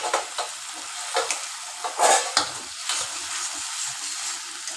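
Garlic paste and green chilies frying in a pan for panch phoron chicken, a close sizzle broken by several loud scraping stirs and clanks of a spatula against the pan, no one speaking.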